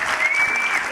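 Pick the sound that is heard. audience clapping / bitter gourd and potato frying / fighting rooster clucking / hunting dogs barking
audience clapping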